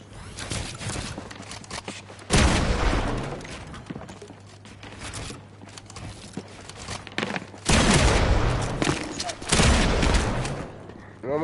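Gunshots ring out in the video game Fortnite, several loud bursts of rapid fire in separate clusters with quieter game noise between them, and a voice talks over parts of it.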